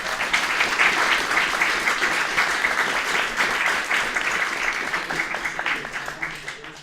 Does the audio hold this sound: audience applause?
yes